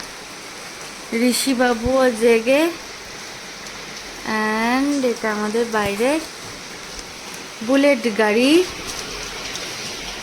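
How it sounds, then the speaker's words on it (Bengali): Heavy rain pours down before dawn outside a flooding house, a steady broadband hiss running through the whole stretch beneath a voice that speaks in several bursts. "সারা রাত বৃষ্টি হলে কি হবে গো"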